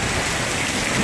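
Heavy rain pours down steadily during a lightning storm, a dense close hiss of drops hitting surfaces throughout the short stretch.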